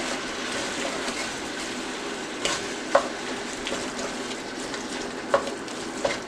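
Ground meat frying in a pan for a cheesy loose meat sandwich, stirred with a utensil that knocks the pan a few times over a steady broadband sizzle, no talking.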